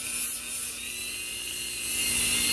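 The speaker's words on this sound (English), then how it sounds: "Now I will go back over this area with the Scotch-Brite pads" A power tool with a Scotch-Brite pad buffs a damaged Redline wheel, giving a continuous high whirring, scuffing hiss close by that swells slightly and then steadies, with no talk.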